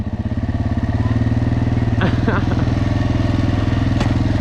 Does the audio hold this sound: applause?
no